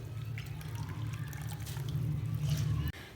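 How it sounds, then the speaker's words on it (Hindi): Washed potatoes are squeezed by hand and dropped into a bowl of clean water, making soft wet splashes and drips over a steady low hum, ending with a brief sharp bump. "इसमें से निकाल के हम इस तरह से निचोड़ कर आलू उसके अंदर शिफ्ट करेंगे"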